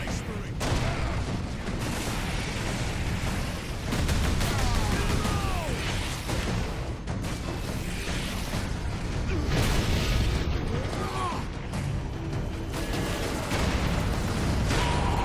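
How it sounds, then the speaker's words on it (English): Rapid bursts of explosive gunfire and blasts in the Warhammer 40,000: Space Marine video game, dense and continuous with overlapping pops and booms throughout, a steady roar of combat filling the whole stretch. "you are still shooting explosives"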